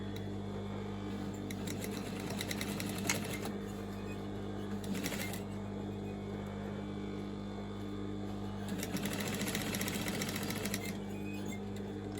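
A sewing machine stitches a large shopping bag in several bursts of steady, rapid needle chatter, separated by pauses filled with low hum and handling noises, heard close up with no talking.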